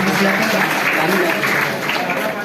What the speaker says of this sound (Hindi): एक बार ताली हो जाइए जल्दी से